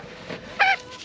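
A stubborn broody hen on her nest gives a single short, nasal cluck, close by over a steady background hiss, with a softer grumble just before it.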